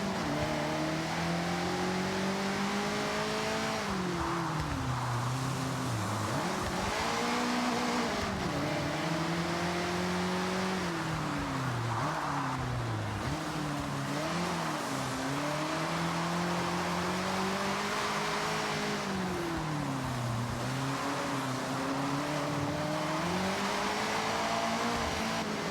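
Race cars in Forza Horizon 6, including a stock Cosworth, roar continuously with engine notes rising and falling through gear changes and revving, loud and steady throughout with no talk.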